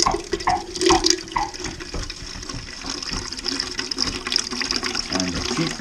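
Liquid runs and splashes steadily from an opened tap while raspberry mead is being bottled, a continuous close trickle with small gurgles, faint voices talking underneath.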